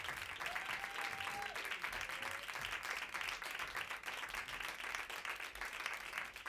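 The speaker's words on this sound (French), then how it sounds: "On l'applaudit très fort, s'il vous plaît." Concert audience applauding steadily at a small Paris venue, dense uniform clapping that fills the whole stretch with no break, moderately loud and close, with no voices rising above it.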